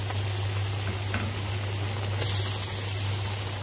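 Fish sizzles in hot oil in a pan, a steady, continuous frying hiss at moderate level with no talking, and a low hum runs underneath throughout.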